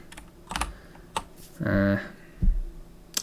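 Keys tapped on a computer keyboard during a Linux setup, a handful of sharp separate clicks spread out with pauses, close to the microphone, with a short murmured voice partway through.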